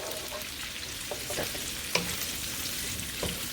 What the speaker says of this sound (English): I start to toss them around in the oil and in the baking grease and start trying to get them coated.